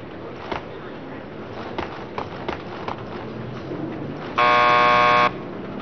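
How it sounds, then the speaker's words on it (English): Door buzzer in Max Payne 2 sounds one loud, steady electronic buzz lasting under a second, over a background of faint footsteps and ambient game noise. "Just press the buzzer by the door."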